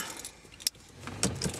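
Keys jangling in two brief metallic bursts near a car, close and fairly loud over a soft background hum, with no talk.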